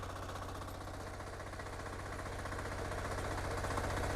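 A small power weeder with a rotary tiller runs at a steady idle, giving a rapid, even mechanical chugging close by that grows slightly louder toward the end.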